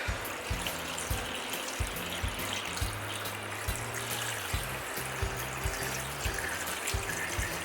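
Roughly 2.5 liters of alkaline water pours steadily into a pot over chicken bones and the neck, a continuous close-up splashing and trickling with no talking.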